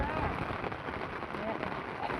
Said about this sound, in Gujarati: હવે તમને મિત્રો જો હું વરસાદ બતાવી દઉં કે કેવો ચડી રહ્યો